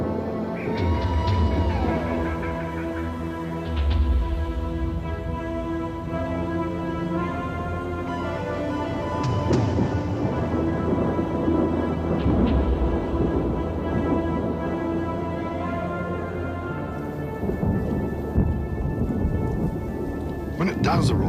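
Afternoon thunderstorm with rain over the Australian bush countryside in the wet season: heavy steady rain with repeated loud rolling thunder claps, close and dominant throughout.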